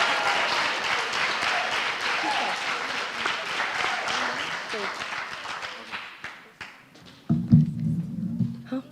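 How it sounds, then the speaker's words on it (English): Audience applause at the 2025 Slammys awards ceremony, a loud, dense roomful of clapping that carries for several seconds before thinning into scattered claps and low voices near the end. "Let's clap it up for them"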